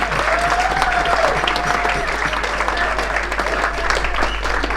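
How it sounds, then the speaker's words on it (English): A dinner audience at a curry-and-speeches gathering applauds steadily, a dense, continuous clatter of many hands clapping at fairly close range, with no talk over it. "Can we make a round of applause for Tony?"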